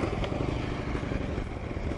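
Steady low rumble of a vivid black 2013 Harley-Davidson FLHRC Road King Classic motorcycle engine running at a dealership, a continuous even drone close by with no voices.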